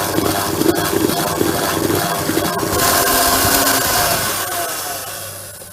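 An electric hand mixer whirs steadily through batter with flour, a buzzing, gritty motor noise that continues without pause, shifting slightly in tone partway through.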